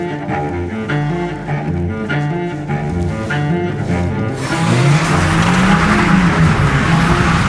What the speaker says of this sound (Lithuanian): Tai kaip matot, mašina sėkmingai slydo, tiesiog jokios kontrolės nebuvo